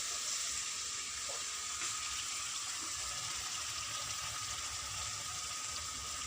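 Sweet vermicelli zarda with sugar and milk cooks in a pan, giving a steady, even sizzle and bubbling hiss that runs unbroken throughout, close and moderately loud, with no voices.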